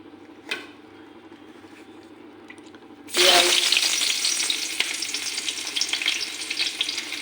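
Food drops into hot oil in a pan for a Maggi vegetable soup, and after a quiet start a loud, close sizzle erupts and continues as a steady crackling hiss.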